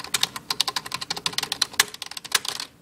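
Fast, steady typing on a light, cheap Lite-On computer keyboard: dense, crisp key clicks in an uneven rapid rhythm, close and alone, stopping abruptly near the end.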